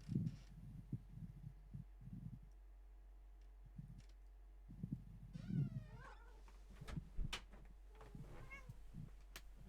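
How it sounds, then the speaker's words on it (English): A pet cat meows indoors at a bedroom door, giving a few drawn-out, close meows spaced apart with quiet rustling and small knocks in between. "Gotta let my cat in the room."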